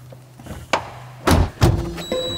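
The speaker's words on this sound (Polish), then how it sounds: "Bo mi się drzwi nie chcą zamknąć." Door of a Fiat Multipla car being shut, with several solid thuds as it is pushed closed, fairly close, followed by a faint ringing tone.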